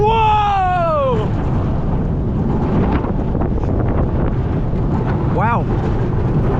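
Riding the Hang Time roller coaster at Knott's Berry Farm: a loud, constant rush of wind roars over the microphone, with riders screaming at the start and again briefly near the end.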